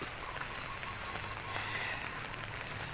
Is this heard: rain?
yes